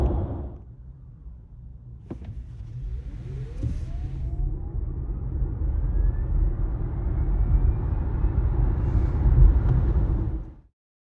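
A Kia EV6 electric car accelerates hard in a 0-60 test, its motor whine rising steadily in pitch over road and tyre rumble that builds for about ten seconds before cutting off abruptly.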